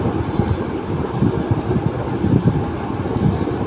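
A kitchen range hood fan blows air hard, a steady broadband whoosh with a low rumble that holds at a constant loud level throughout, alone without voices.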